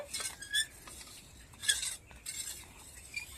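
A spoon stirs pineapple jelly mixture tinted with orange food colour, producing quick light clinks and scrapes against the bowl in an irregular rhythm, close and fairly quiet, without talking.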